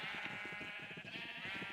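Sheep in Minecraft bleat in a quick, wavering run of pulsed baas, close and clear, lasting under two seconds with no voices.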